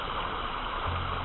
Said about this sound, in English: it appears and sounds like a little rainy waterfall